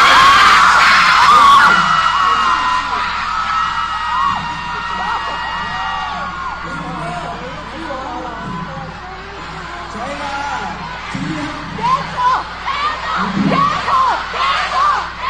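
A concert crowd at a show screams and yells loudly, asking for a song. Dense sustained cheering and shrieks fill the whole stretch, with swells and sharper bursts toward the end.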